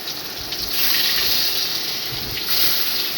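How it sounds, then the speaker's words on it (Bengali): Eggs dropped into hot oil in a kadai set off a steady, loud hissing sizzle that swells and holds, close and continuous with no voices. "এবার কড়াতে আমি ডিমগুলি দিয়ে দিচ্ছি।"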